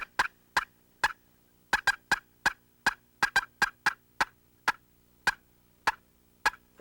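Turkey box call, a one-sided wooden call with an automatic cutting system, producing a run of sharp, evenly spaced yelps, close and crisp against a quiet background.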